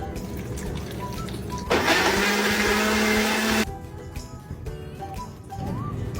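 Kitchen blender whirring loudly for about two seconds while blending chopped shallots, other rendang ingredients and a little water, starting and stopping abruptly between quieter kitchen noises.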